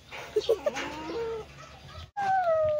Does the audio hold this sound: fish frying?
no